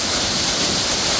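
Jopok waterfall on Yeongdo Island, a seasonal fall that appears only in the rainy season, pours with a loud, constant, close-up roar of falling water and no voices.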